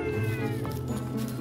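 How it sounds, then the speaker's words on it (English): A cat meows among the hundreds of abandoned cats at a rural cat sanctuary, a single drawn-out call with tonal harmonics, fairly faint against low background noise. "Here I have anywhere between 300 and 400 cats."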